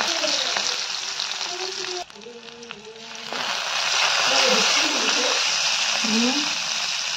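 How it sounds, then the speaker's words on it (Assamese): Loud frying sizzle with garlic, green chili and ginger crackling in hot oil, briefly quieter midway, then surging back full and steady. "এইফালে নহৰু, কেঁচা জলকীয়া আৰু আদাখিনি একেলগে ভাজি ল'ম।"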